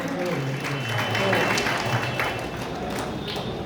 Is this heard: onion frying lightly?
no